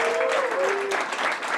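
An audience at a startup accelerator demo day applauds, a dense, steady wash of clapping throughout with a brief voice over the start.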